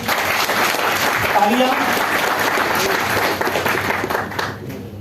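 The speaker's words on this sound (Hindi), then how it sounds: "जो फर्स्ट टाइम आए उनके लिए जबरदस्त क्लैपिंग होनी चाहिए" A conference audience claps for first-time attendees, giving a loud, sustained round of applause mixed with a few voices that tapers off near the end.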